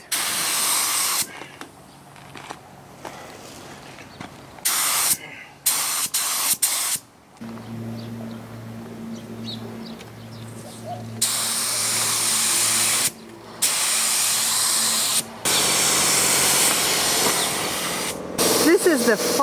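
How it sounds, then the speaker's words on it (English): Paint spray gun shooting a final clear coat with no pearl onto a skoolie bus, a steady airy hiss running in long bursts with short pauses, a low compressor-like hum under some passes. "This is the final clear coat, which we're shooting with no pearl in it."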